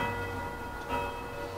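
Church bells ringing in Prague, a sustained metallic tone with lingering resonant overtones and a slight swell near the middle, heard at moderate distance without speech.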